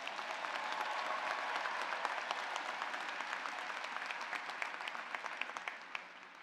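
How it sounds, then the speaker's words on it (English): A commencement audience applauds Dr. Kavanaugh and the orchestra with a steady wash of many hands clapping, sustained and even throughout before thinning slightly near the end. "I think Dr. Kavanaugh and the entire orchestra need another round of applause"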